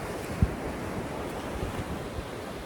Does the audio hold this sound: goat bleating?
no